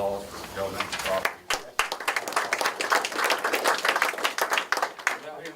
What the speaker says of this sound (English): I'd like to give Rodney a round of applause for donating the property